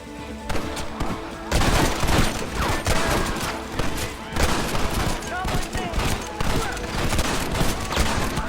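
Dense gunfire from a Red Dead Redemption shootout with outlaws, rapid overlapping shots and volleys in a continuous loud fusillade for the whole stretch, with shouted voices mixed in.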